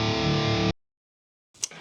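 A sustained, heavily distorted electric guitar chord through the distortion effect of a BOSS GT3 multi-effects unit, loud and close, cutting off abruptly into silence before a brief noisy burst.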